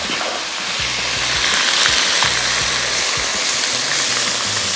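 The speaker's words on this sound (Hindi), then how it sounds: "ये आ गया पिसा हुआ प्याज और सबसे पहले तो इसकी फ्राइंग शुरू हो जाएगी।" Ground onion frying in hot oil, a steady loud hissing sizzle with faint stirring scrapes and low thumps underneath, continuous throughout.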